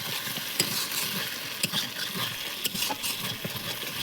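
Ginger, cumin and garlic paste sizzling in hot oil in a pan as it is stirred, a steady frying hiss broken by soft scraping clicks of the spoon.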